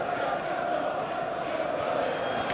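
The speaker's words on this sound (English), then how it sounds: "Well, listen to the crowd here, listen to the atmosphere." A packed football stadium crowd at an FA Cup fourth-round replay between Leeds and Spurs keeps up a loud, continuous roar of chanting and cheering, distant and dense, with a commentator's voice partly audible over it.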